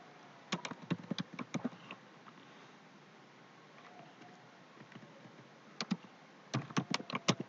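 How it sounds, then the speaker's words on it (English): Computer keyboard typing in two quick bursts of close, crisp key clicks separated by a quiet pause, no voices. "Let me just type it"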